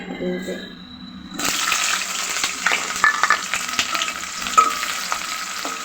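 Onion, green chili, garlic and ginger hit hot oil with a sudden loud sizzle about a second and a half in, then fry steadily up close with scraping stirs and small pops.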